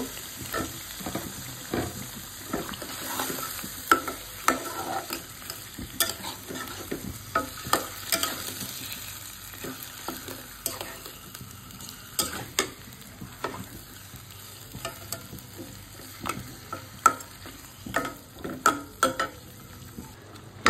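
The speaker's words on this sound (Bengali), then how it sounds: "আমি এখন মাছের মাথাটা ভালোভাবে কষিয়ে নিব" A rohu fish head being fried with spices in a pan while it is stirred, with a continuous sizzle and frequent irregular scraping and clinking strokes running throughout, close and moderately quiet, with no talk.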